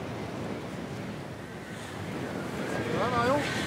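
Strong wind at sea, heard high aloft on the tall ship Hermione at about 40 km/h. Steady, loud rushing gusts buffet the microphone over surf, and a voice speaks briefly near the end.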